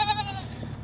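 A goat bleats with a quavering, nasal cry over a low steady hum, close and fairly loud, lasting under a second.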